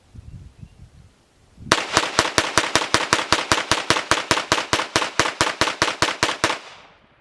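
A Gforce Blade 6 PDW gun fires in a rapid automatic burst of about two dozen sharp, evenly spaced reports. The shots are loud and close, follow a short quiet lead-in, and end abruptly.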